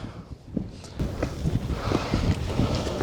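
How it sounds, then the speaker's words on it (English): Wind blows steadily across the microphone at ancient cliff dwellings, starting softer and then turning into a louder, continuous rumbling buffet after the first second. "Very windy and cold."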